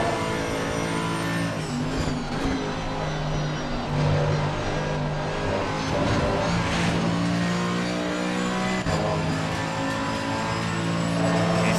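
A race car engine in Assetto Corsa Competizione at Donington Park winds up through high revs, with loud, sustained tones that rise and then step down at gear changes, heard without any speech.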